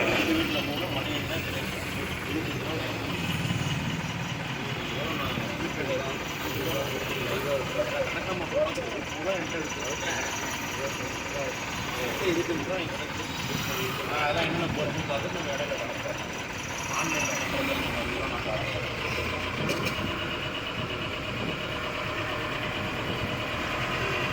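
Road traffic of cars and trucks creeping slowly along the highway toward Chengalpattu, a steady broadband rumble of idling and moving engines that runs unbroken throughout, with voices talking over it.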